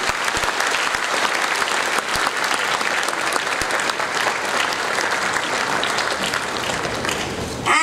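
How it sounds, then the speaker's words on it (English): A large audience claps loudly and continuously for a naval band conductor at an Indian Navy band performance, a dense, even wash of applause lasting several seconds. "Give him a big round of applause once again."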